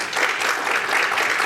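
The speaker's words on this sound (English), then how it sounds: "So round of applause." Steady applause from a seated meeting audience welcoming a guest speaker, a dense, even patter of many hands throughout.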